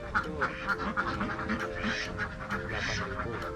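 Ducks kept for hatching eggs quack repeatedly in a farm pen, a busy run of nasal calls at moderate distance over a low background hum.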